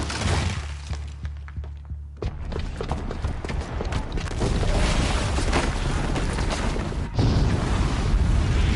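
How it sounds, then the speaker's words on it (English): A bomb booby trap detonating in Horizon Zero Dawn on PS4: a deep boom after a brief lull, then a long, loud roar of shattering debris and rumbling destruction that keeps going to the end. "the booby trap on the bomb downstairs is gonna get set off"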